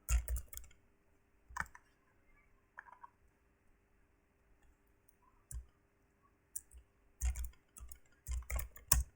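Typing on a computer keyboard, close and quiet, in irregular bursts of clicking separated by pauses, with a faint steady hum underneath.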